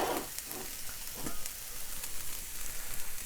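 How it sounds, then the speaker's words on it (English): Onions and garlic sizzle in a hot frying pan with a steady, dense hiss and occasional stirring scrapes, close and continuous. "we will add the onions and garlic back into this pan"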